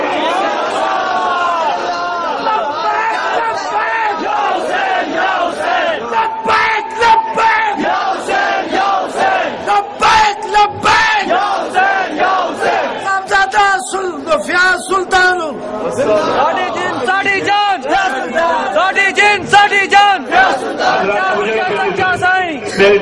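A large crowd chants slogans in loud, repeated unison cries at a religious gathering on the tenth of Muharram, a dense wall of many voices that swells and surges for the whole stretch.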